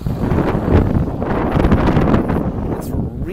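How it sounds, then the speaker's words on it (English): Strong wind blowing outdoors and buffeting a phone microphone, a loud, continuous low rumble with gusty surges throughout, heard close and unbroken. "It's really windy right now."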